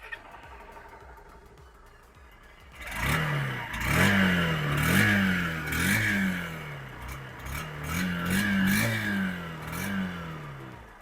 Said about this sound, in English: Let me start the motorcycle.